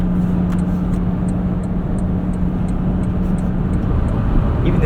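A 2025 Toyota Tundra TRD Rally pickup rolling along on Michelin LTX tires, heard from inside the cab as a steady, loud broadband road and engine rumble with a constant low hum, no talking.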